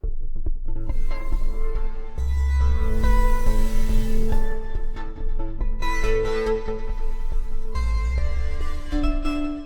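Warm Arturia PolyBrute 12 synthesizer morph pad chords swell and shift, sustained tones with a deep low end and bright shimmering overtones, played alone with no voices.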